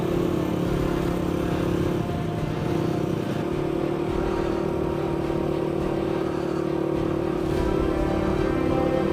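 A Voge 300 Rally and a KTM 790 ride offroad in the Pyrenees, their engines a steady, loud drone with a constant mid-pitched hum throughout.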